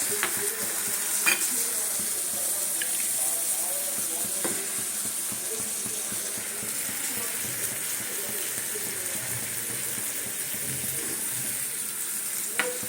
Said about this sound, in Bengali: এই সবজিতে জল দিয়ে দিলাম